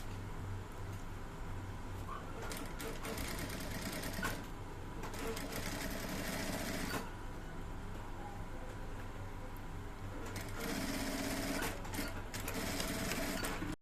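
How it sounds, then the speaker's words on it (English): Sewing machine stitching kimono jacket parts, a steady mechanical whir running in long bursts with short pauses between, close and fairly loud with no talking. "So we'll sew this down to the end."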